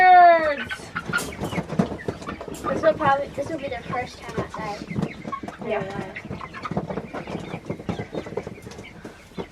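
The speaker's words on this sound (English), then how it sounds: "Release the birds!" Chickens cluck and squawk, with a rooster-like call near the start, as they are released outside for the first time, while people talk over them throughout.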